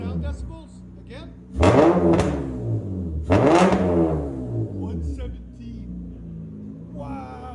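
2007 Acura TL Type S with a 3.5L V6 and Vibrant resonator, revved twice in quick succession, each blip a loud rising roar that falls back to a rumbling idle, with people talking over the engine.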